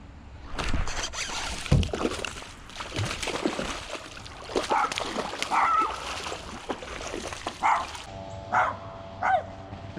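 A dog barks a few times nearby amid splashing, sloshing water and handling noises, with a faint voice in the background.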